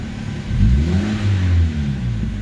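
A car engine being revved after a fault that caused sluggish response and black exhaust smoke, two close rising and falling surges over a steady running hum, with no voices.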